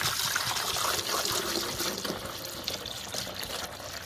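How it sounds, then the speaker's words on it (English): Vinegar trickles and splashes steadily into the water reservoir of a Black+Decker 12-cup coffee maker during descaling, a continuous close liquid pour with no talk. "we're going to fill this up to the 12 cup mark with this vinegar"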